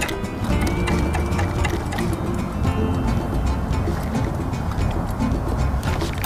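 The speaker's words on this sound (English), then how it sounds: "I hear drag pulling out." Fishing reel drag on a boat during speckled trout fishing, a rapid steady clicking buzz running throughout over constant boat and water noise.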